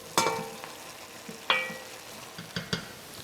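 Potatoes fry in a pan as paupiettes de veau are prepared, giving a crackling sizzle that several sharp clatters and stirring knocks break up at irregular moments, close and fairly loud.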